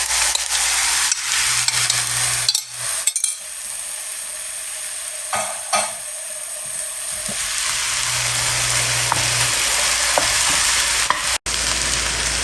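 Rice stir-frying in a hot pan with garlic, ginger, Thai peppers, peas and carrots, a steady loud sizzle with stirring scrapes and clanks running throughout, no voices.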